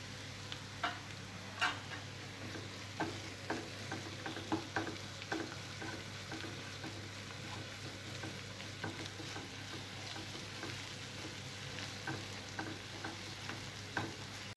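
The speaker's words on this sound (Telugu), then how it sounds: "ఉల్లిపాయ పేస్ట్ కొద్దిగా ఫ్రై అయిన తర్వాత అల్లం వెల్లుల్లి పేస్ట్ వేసుకోవాలి." Onion paste with ginger garlic paste fries in a pan with a steady, quiet sizzle, punctuated by a series of light clicks and scrapes from stirring, with no voices.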